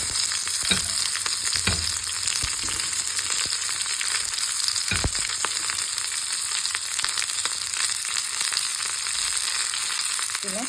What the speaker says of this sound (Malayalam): അതിനുശേഷം നമുക്ക് ഉള്ളി എടുത്തിട്ട് കൊടുക്കാമേ.